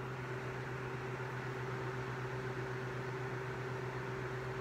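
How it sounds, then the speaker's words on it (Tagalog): Small mini electric fan running steadily nearby, a constant motor hum with a low droning pitch under broad airy whoosh, unchanging throughout with no talk. "Ayan, may electric fan ako dito, mini."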